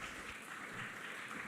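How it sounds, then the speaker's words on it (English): Audience applause at a conference opening ceremony, a steady wash of many hands clapping at an even level for the whole stretch, with no voices heard. "We remind you to please hold your applause until the end."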